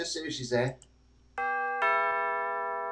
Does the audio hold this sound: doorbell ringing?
yes